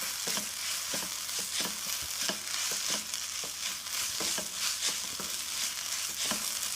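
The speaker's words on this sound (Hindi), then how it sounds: "और इसको अच्छे से मिक्स कर लेंगे।" A spoon scrapes and stirs a breakfast mixture with chaat masala, dry mango powder and coriander in a pan, in quiet, regular strokes over a faint background hiss, with no voices.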